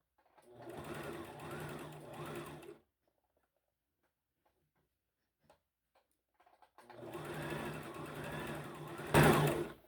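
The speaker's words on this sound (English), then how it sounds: "you're going to stitch close to the edge, all around" A sewing machine stitches close to the edge of a skirt in two close, steady whirring bursts separated by a quiet pause with faint handling clicks.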